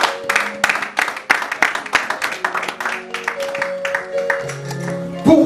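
A church congregation applauds Jesus in a burst of irregular, fairly close hand clapping that sometimes thins out, while sung and spoken voices carry over the claps.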